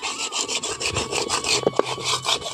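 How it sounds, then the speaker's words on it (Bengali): Soft, steady hand scrubbing of softened residue on a kadai, a rasping rub in repeated strokes up close with a couple of sharper scrapes, and no talking. "হালকা হাতে এইভাবে যদি আমরা ঘষে দিই পরিষ্কার হয়ে যাবে"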